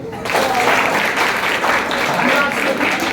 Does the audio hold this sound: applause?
yes